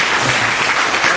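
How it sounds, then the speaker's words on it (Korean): An audience at a Korean real estate finance industry seminar claps in a dense, loud burst of applause filling the whole moment. "박수 한번 쳐주세요"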